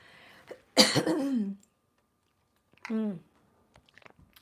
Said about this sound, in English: I feel like I'm about to cough